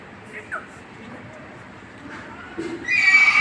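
A mare whinnies near the end, a bright harmonic call rising over a low rumble of background noise and scattered faint sounds.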